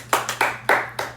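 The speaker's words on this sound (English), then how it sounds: "So give us a round of applause." Five sharp, sparse claps ring out one after another at uneven intervals, close and distinct against a low steady hum, a small thin round of applause after a football picks recap.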